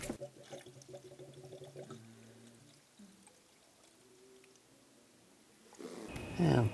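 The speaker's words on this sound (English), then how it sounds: "Now we're going to add the coolant." Coolant pours into the cooling system of a 2013-2022 Buick Encore, a liquid gush at the start and again, louder, near the end, with a quieter trickle between.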